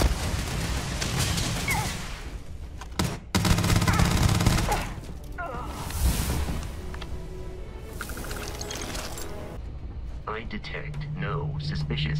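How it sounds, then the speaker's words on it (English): Gunfire in the video game Starfield cracks in scattered bursts and volleys at mid distance, mixed with explosions and talk throughout. "they really shooting rounds at me right now?"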